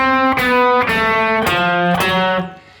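A gritty, overdriven electric guitar plays the main riff of a song, four struck notes and chords, loud and close, ringing out at the end.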